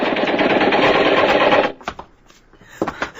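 A gunfire sound effect in a radio drama of The Day the Earth Stood Still: a loud, rapid burst of machine-gun fire for about a second and a half, then a few scattered thuds and quieter sounds.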